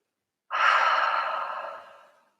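A single long, breathy exhale, close and soft, fades out slowly as someone lies belly down resting between Bikram yoga postures.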